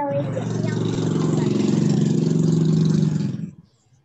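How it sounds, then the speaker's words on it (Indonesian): A loud motor engine runs steadily and close for about three and a half seconds, with a strong low rumble and a rising rev, then cuts off abruptly into quiet. "Wow, ada suara motor. Keras sekali."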